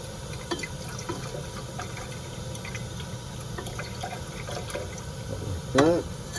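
Nitric acid is poured from a container holding about 100 millilitres during gold refining. The liquid gives a quiet trickle over low background hum, ending in a brief, slightly louder splash near the end.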